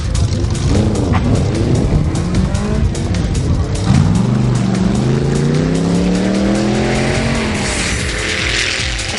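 A Chevy-powered VW Beetle makes a drag racing run at a Bug Jam event, the loud engine roaring and climbing in pitch through gear changes, its rising whine strong and close over a constant crowd and track din.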